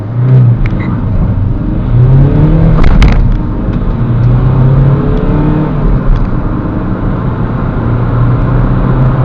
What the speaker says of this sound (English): I think the first thing we can do is start off with a 0 to 60 test